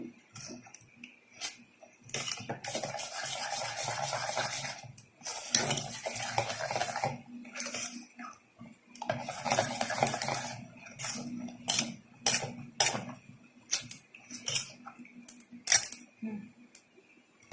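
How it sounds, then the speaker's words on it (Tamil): Spoon scraping and clinking against a bowl while ragi cake batter is stirred with oil, irregular bursts of mixing with brief pauses, close and moderately loud. "இப்போ இந்த குழிக்கரண்டி எண்ணெயும் சேர்த்துட்டு நல்லா மிக்ஸ் பண்ணணும்."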